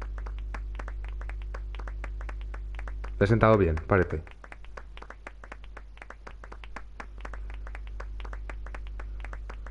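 Brief burst of clapping from a crowd in the video game Final Fantasy VIII, about a second of applause under steady game music, with a person talking over it.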